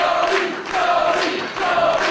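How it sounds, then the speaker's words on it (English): A crowd at a wrestling show in Lucan roars and cheers loudly, swelling in two or three waves over a couple of seconds, with no talk over it. "a great reaction from the crowd here in Lucan"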